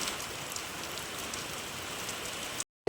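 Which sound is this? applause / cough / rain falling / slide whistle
rain falling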